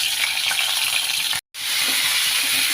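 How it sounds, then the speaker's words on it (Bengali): Mango pieces for a Bengali pickle are stirred in hot oil in a wok, giving a loud, continuous close-up sizzle. It cuts out for a split second and then resumes, with no talking. "আমগুলো একটু কড়াই তেলে নেড়ে নিচ্ছি"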